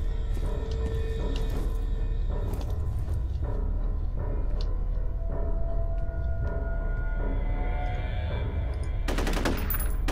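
Sustained automatic gunfire in the first-person shooter FEAR, rapid dense bursts with sharp louder shots near the end, loud and continuous over a low rumbling background.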